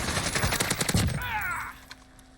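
Rapid gunfire bursts in Call of Duty Warzone, loud and close, with a quick run of shots that breaks off into a quieter tail of game sounds.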